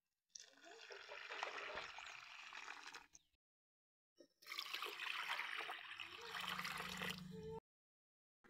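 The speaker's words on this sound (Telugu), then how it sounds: "రెండు గిన్నెలతో వాటర్ అయితే పోసుకొని కలుపుకోవాలండి" Water poured from a vessel into rice flour for making vadiyalu, two separate steady pouring bursts of about three seconds each with a short pause between, close and fairly loud.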